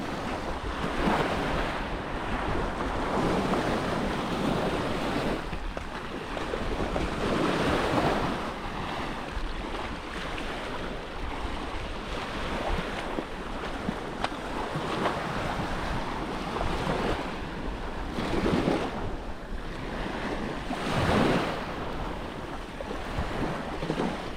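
Surf and wind on a long, foggy beach at Long Beach, Koh Rong, Cambodia: a continuous broad wash of breaking waves with gusty microphone wind rumble, steady and close throughout.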